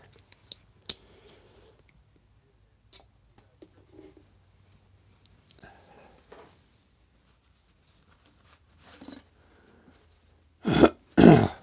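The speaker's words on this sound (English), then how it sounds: "you'll probably hear me coughing a lot" A few scattered quiet clicks and soft rustles, then two loud, harsh coughs close together at the end.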